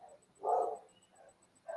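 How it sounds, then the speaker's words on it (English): A dog barks outside, a few distant, muffled barks in short bursts with gaps between them, heard alone at low volume. "If anybody can hear that dog barking,"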